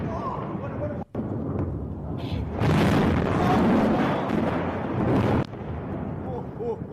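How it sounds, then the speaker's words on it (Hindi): A loud explosion during the Israel-Iran conflict, recorded on a mobile phone: a heavy, roaring blast lasting several seconds, set between quieter stretches with voices around it. "धमाके की बहुत जोरदार आवाज है"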